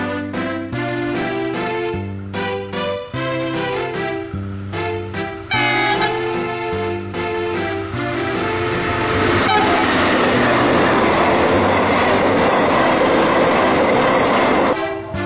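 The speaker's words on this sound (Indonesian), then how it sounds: "Di sini saya bisa merekam rangkaian kereta apinya saat muncul dari kejauhan" A train horn blasts in repeated long and short toots, then the rumbling clatter of the approaching train swells and fills the air.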